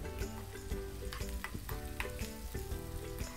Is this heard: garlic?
yes